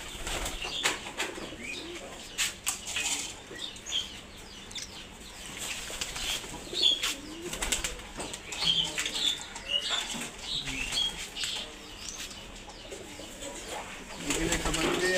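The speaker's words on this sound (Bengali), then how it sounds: "আমি এখন এইখানে খাবার দেবো ওই কবুতরগুলো" Pigeons kept at home gather for feeding, with bursts of wing flapping, soft coos and scattered bird calls, some clucking mixed in, and background movement throughout, close by and irregular.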